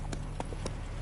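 Horse hooves clip-clop in a rapid gallop in The Witcher 3: Wild Hunt, a steady drumming of hoofbeats over a constant game background hum, with no talk, while riding toward Novigrad.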